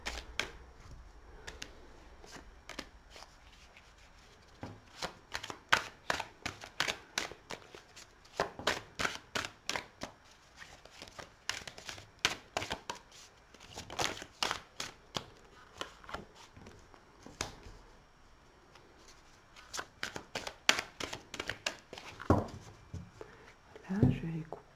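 Tarot cards are shuffled by hand in quick, crisp riffles and taps, close and fairly quiet, with several pauses and a brief handling noise near the end.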